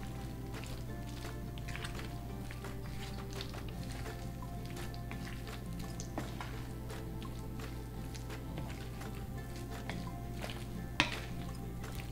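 Eggs are stirred into a seafood dish in a pan, giving quiet, scattered scrapes and light clinks of a utensil against the pan over faint background hiss.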